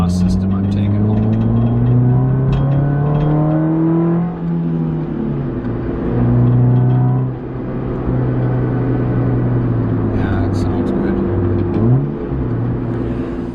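2009 Nissan Cube fitted with a J2 stainless steel cat-back exhaust, engine revving and settling with a low droning note and steady rumble, heard from nearby with a voice talking over it.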